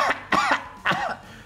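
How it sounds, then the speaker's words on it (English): Three harsh coughs from one person, close and loud, a quick pair followed by a third after a short pause, with no speech. "I'm coughing again."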